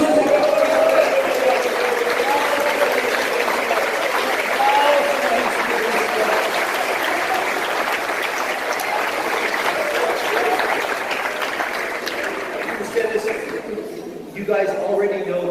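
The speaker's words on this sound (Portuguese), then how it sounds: "Um aplauso para Jesus Cristo." Sustained applause from a church congregation, dense and steady for most of the stretch, with scattered voices and shouts mixed in before it thins out near the end.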